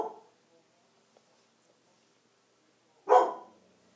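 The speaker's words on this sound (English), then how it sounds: "Sorry about the dog." A single dog bark rings out clearly after a quiet stretch, with a faint bit of sound at the very start.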